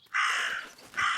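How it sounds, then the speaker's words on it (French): A raven in the video game Martha Is Dead gives two harsh, raspy caws, the first long and drawn out and the second shorter, loud and close with no talking. "Raven is making a big fuss."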